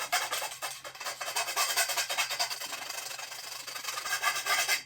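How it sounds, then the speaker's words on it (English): A round file rasps back and forth against a metal awning part to strip off a burr, a close, steady scraping in quick repeated strokes with no talk. "a round file does a pretty good job of this task"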